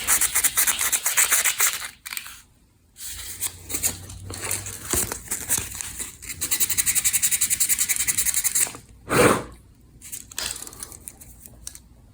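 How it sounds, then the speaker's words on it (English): A small piece of lower-grit sandpaper rubs back and forth in quick, rasping strokes, close and fairly loud, broken by a few short pauses and one heavier scrape. "Got a little piece of sandpaper here. Need a little lower grit."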